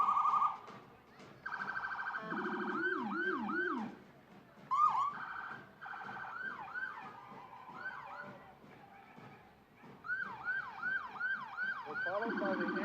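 Wailing and yelping sirens from Peekskill Volunteer Ambulance Corps fly cars roll past in an Independence Day parade, cycling through several siren patterns, fairly near and loud over outdoor crowd noise.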